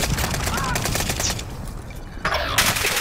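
Gunfire in an online shooter video game, with steady loud rapid shots running throughout and a fresh burst near the end, all mixed with game noise.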